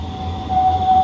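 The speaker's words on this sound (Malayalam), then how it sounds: "ഈ കാണുന്നതാണ് നമുക്ക് കയറേണ്ട ട്രാം" A tram pulling into a stop in Bremen, Germany, a low rumbling hum with a thin steady tone rising slightly, brief and fairly close.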